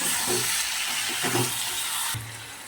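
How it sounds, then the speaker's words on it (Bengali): Chilli chicken being stirred in a pan with tomato sauce and soy sauce, a soft continuous sizzle with faint scraping stirs, close and moderate, the hiss dropping away near the end. "সয়া সস, একটু নাড়াচাড়া করবো।"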